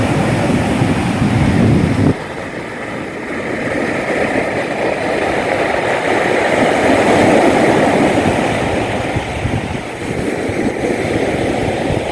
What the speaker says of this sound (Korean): 여러분도 잠시 저와 같이 파도를 즐겨보시죠.